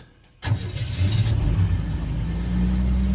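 An old 1981 Chevy engine catching and starting up, a sudden crank then a steady low rumbling idle, close and continuous without speech.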